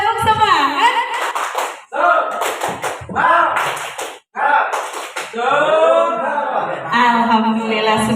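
A group claps in quick bursts of sharp, rhythmic hand claps, separated by short pauses and mixed with chanting voices.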